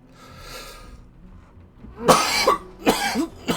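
Harsh, close coughs burst out in three quick fits after a quiet stretch, loud and raspy, with no talking, in the old video game Lionheart.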